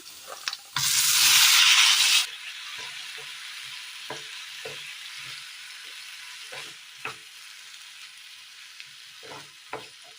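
Cooked vegetable pieces drop into a sautéed mixture for a Kerala curry, setting off a loud burst of hissing sizzle that fades into quieter frying with scattered scrapes and taps of stirring.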